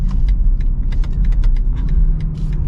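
A 2023 BMW XM on a test drive gives a low engine rumble under clicks and creaks from the cabin for a few seconds, close and steady.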